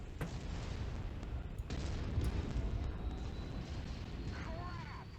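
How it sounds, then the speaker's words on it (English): Incoming missiles strike during a MechWarrior 5: Mercenaries battle, with booming impacts and rumbling blasts layered over dense combat noise, at a fairly low level. "Incoming missile."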